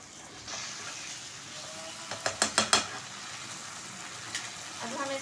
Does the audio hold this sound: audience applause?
no